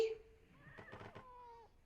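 A cat gives a single faint, drawn-out meow that rises and then slowly falls. It is heard distantly in a quiet room.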